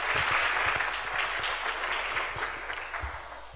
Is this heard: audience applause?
yes